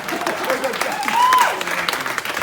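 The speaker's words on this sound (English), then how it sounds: "we can give him a round of applause for that" Wedding guests at a best man speech giving a round of applause, a short swell of clapping from the room that rises and fades, with a voice speaking over it.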